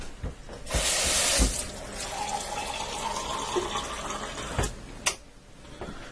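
Water runs from a kitchen tap into a container, a steady close rush that starts abruptly, holds for a few seconds and ends with a couple of clunks.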